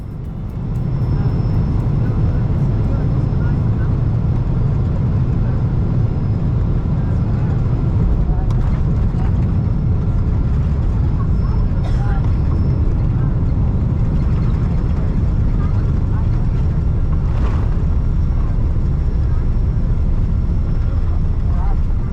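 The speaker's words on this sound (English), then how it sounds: "our 777 touches down in the Netherlands" A KLM Boeing 777-200ER touching down in the Netherlands and taxiing toward the gate at Schiphol, heard from inside the cabin as a loud, steady engine and airframe roar that holds without a break.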